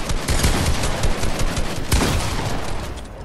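Rapid gunshots in a video game box fight, with a loud, dense burst of bursty fire close by that runs almost without pause and eases slightly at the end.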